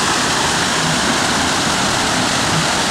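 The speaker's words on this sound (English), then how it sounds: "Love this waterfall over here as well." Waterfall at Epcot producing a loud, steady broadband rush of falling water, constant and close, with no talking.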